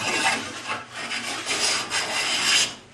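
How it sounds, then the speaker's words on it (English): A hand plane shaves a piece of wood in about five close, rasping strokes, each a brief scraping swish with short gaps between. "there's a blade in here which is just sticking out a little bit at the bottom of the plane, enough to just take off a little bit of wood"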